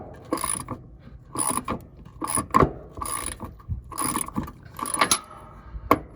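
A wrench ratchets in repeated bursts of clicking as a nut coated in old black tape paint is worked off a bolt on a Freightliner Cascadia, with short pauses and a few metallic clinks between strokes.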